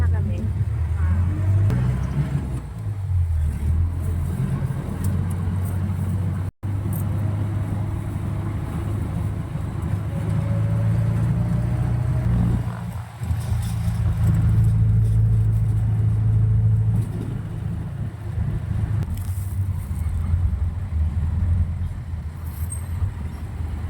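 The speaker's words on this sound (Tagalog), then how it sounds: "Ito ng jeep namin sasakyan." Ride inside a jeepney in the Philippines, a steady engine rumble and road drone running throughout with brief dips, while people talk over the vehicle noise.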